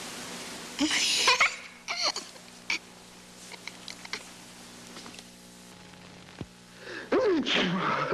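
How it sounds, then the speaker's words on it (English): A sharp sneeze-like burst comes early, followed by a few short breathy vocal bursts and another burst near the end, over quiet room tone. "I've been sneezing and coughing"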